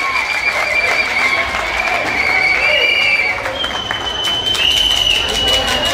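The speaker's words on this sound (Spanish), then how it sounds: "Aplauso para ellos" An audience applauds steadily and densely after a dance group's evening performance, with scattered whistles and cheers rising above the clapping throughout.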